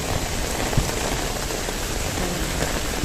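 Steady heavy rain pouring down outdoors near a ferry terminal, a dense continuous hiss of drops hitting surfaces, close and even with no one speaking.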